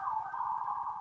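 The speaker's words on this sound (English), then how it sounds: "Apologies for the sirens." An emergency vehicle siren in New York City wails steadily in the distance, a sustained tone holding at moderate loudness throughout with no talking.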